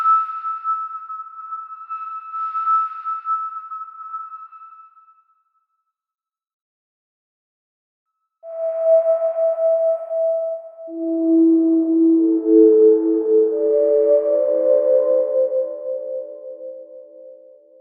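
A sustained synthesizer tone with a long attack and release slowly morphs under reverb, first a single steady pitch, then after a pause a stack of rising sustained tones layering into a washed, textured pad.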